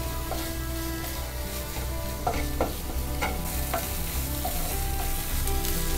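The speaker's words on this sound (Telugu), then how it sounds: "ఇలా మగ్గిపోయి కొంచెం ఫ్రై అయిపోతుంది కదా" Vegetables for aloo chaat fry in a pan with a constant close sizzle, punctuated by soft spatula scrapes and taps, and no speech.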